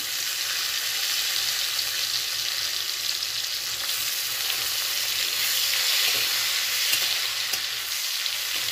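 Cashews and raisins fry in hot oil in a pan for polao, a steady, bright sizzle that holds evenly throughout with no voices.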